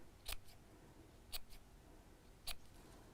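Scissors snipping fabric near a stitch line while sewing snowman decorations, three crisp, separate cuts spaced about a second apart, close and quiet with no talk.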